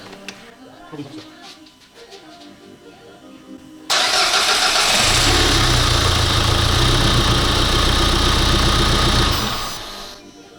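A Renault Kangoo 1.5 dCi diesel engine, newly back together after injector work, cranks briefly and then catches. It settles into a loud, rough, steady idle with no exhaust pipe fitted, then drops away near the end.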